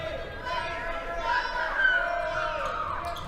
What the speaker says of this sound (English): The crowd trying to distract him as he shoots.